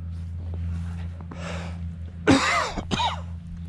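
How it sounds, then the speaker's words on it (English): A man outdoors in snow, still getting over a cough, clears his throat and then gives a couple of sharp, close coughs over a low background hum. "Yes, I still have a bit of a cough."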